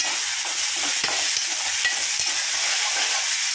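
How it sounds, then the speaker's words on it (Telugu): Chopped tomatoes and onions sizzling steadily in a pan for a cucumber-tomato curry, with a constant bright frying hiss and a few soft spoon scrapes as they are stirred, close up and without speech. "ఒకసారి ఇలా కలుపుకొని సిమ్లోనే ఉంచుకొని మూత పెట్టుకొని మగ్గనిద్దాం"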